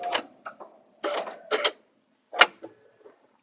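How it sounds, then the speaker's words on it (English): A quilting machine locks off and trims its thread stitches on a butterfly bed runner, giving several short, close mechanical whirring bursts with a sharp click near the end and no talking. "cut my stitches with my machine because that's all going to be cut off"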